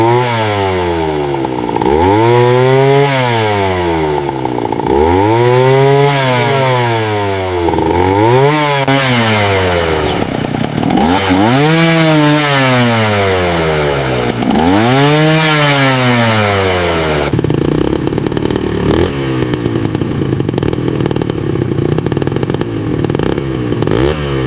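A small two-stroke moped engine, recovered from deep mud, revs repeatedly, rising and falling in pitch in several loud bursts, then settles into a steady rough idle. Close and continuous.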